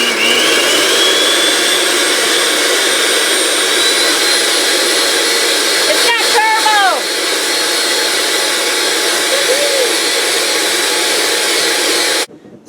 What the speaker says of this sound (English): Alright, so now I have my whisk attachment on my mixer.